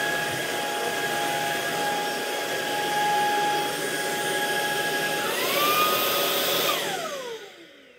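A vacuum cleaner sucks up a tissue with a steady, loud whine that rises in pitch partway through, then winds down and fades at the end.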